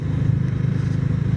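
A Bajaj Dominar 400 motorcycle rides along at steady speed, its engine a loud, even low drone with a pulsing throb, heard close with no talk over it.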